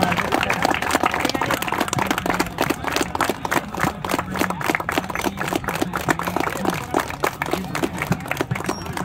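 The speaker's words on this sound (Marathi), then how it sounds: "सर्वांनी टाळ्या वाजवल्या पाहिजेत" An audience at a cricket prize ceremony claps in a steady, dense burst of applause that continues for several seconds, close and fairly loud, with a faint voice at times underneath.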